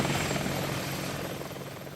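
An Apache attack helicopter flies steadily overhead, its rotor thumping into a loud, continuous drone that fades slightly toward the end, with no voices heard.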